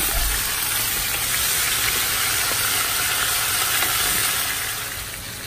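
Garlic paste and tomato paste stirred in a hot pot for a pork trotter stew, a steady loud sizzling hiss with faint scraping, alone.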